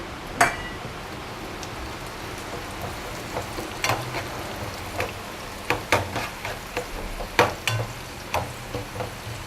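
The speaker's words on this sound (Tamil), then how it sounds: "தனியாவும் ஜீரகமும் கொஞ்சம் கலர் மாதிரி கொஞ்சம் நல்ல ஒரு வாசம் வர்ற வரைக்கும் அது வந்து கொஞ்சம் நம்ம வந்து ஃப்ரை பண்ணிக்கலாம்" Cumin and coriander seeds fry in hot oil with a crackling sizzle and irregular sharp pops and spatters, near and moderately loud, and no voices.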